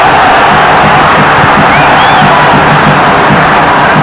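A football stadium crowd at a Campeonato Cearense 2008 match between Fortaleza and Horizonte roars and cheers continuously, loud and sustained with whoops rising out of the massed noise.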